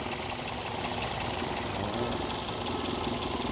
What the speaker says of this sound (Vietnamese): Máy nổ cực ngon luôn.